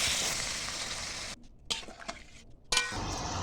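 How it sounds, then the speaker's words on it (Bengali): Fried prawns are stirred through onion-tomato masala in a pan, first with a dense close sizzle, then with a few quiet scrapes and clinks of the spoon against the metal before the frying noise returns. "তারপরে ভাজা মাছগুলো দিয়ে নাড়িয়ে তাড়িয়ে পরিমাণ মতন জল দিয়ে দেবো।"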